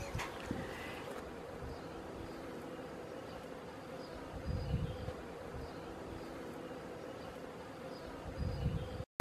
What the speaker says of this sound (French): vous pouvez voir les abeilles qui sont installées dans ce pignon depuis très longtemps